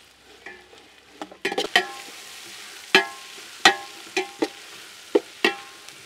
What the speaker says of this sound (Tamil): இப்போ இத பொன்னிலமா வசக்குங்க